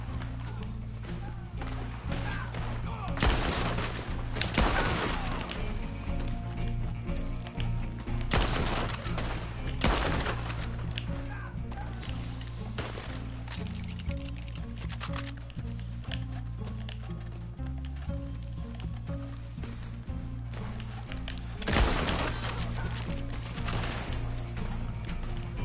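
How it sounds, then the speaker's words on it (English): Gunfire in the Red Dead Online video game: scattered shots and brief bursts rise from a steady backdrop of game music and ambience, with a few louder clusters standing out over roughly twenty-five seconds. "And I'm going for body shots here, and I'm killing people."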